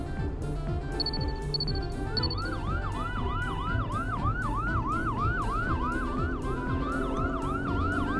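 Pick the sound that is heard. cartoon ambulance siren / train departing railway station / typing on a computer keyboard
cartoon ambulance siren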